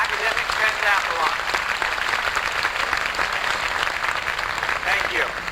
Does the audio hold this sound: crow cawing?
no